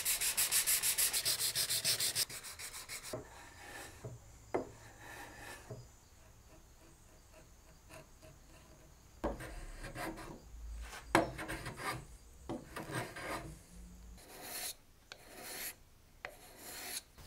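A wooden joiner's mallet of maple and ebony with brass parts being sanded by hand, a brief loud rasp at the start, then quieter intermittent scratchy rubbing strokes, close up with no talking.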